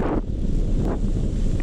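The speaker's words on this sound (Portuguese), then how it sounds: "É muito vento." Strong wind buffets the microphone outdoors in Kuvango, a loud continuous rumbling roar with no talk.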